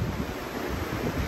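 Offshore wind howling by the sea in pouring rain, a steady broadband roar of gusts mixed with surf, fairly faint and unbroken.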